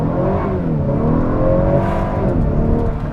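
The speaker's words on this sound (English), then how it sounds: "I'm just gonna floor it" A 2021 Honda Accord Touring 2.0T with 10-speed automatic floored at full throttle, the engine roaring loud and close as its pitch climbs steadily through the revs, alone without talk.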